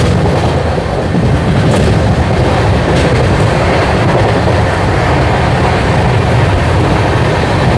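An express train running through Gangadhara railway station on a single line without stopping, a loud continuous rumble with rattling wheel clatter heard from on board, steady throughout.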